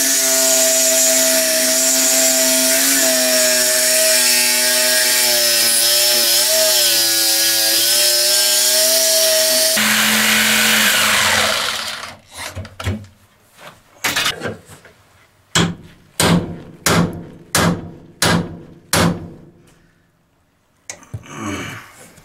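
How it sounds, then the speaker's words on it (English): Sawzall reciprocating saw cutting interior welds inside a bus, first a long loud continuous whining buzz, then a series of short separate bursts of cutting, prying and clanking with pauses between. "then I can just cut with my Sawzall maybe every foot and then just cut the top welds"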